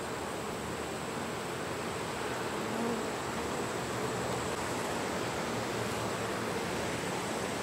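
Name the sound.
honey bees buzzing in the hive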